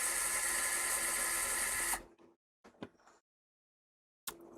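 Power screwdriver backing out fan screws inside an Xbox Series X, a loud steady whir for about two seconds, then silence broken by faint clicks and handling noises before a short burst resumes.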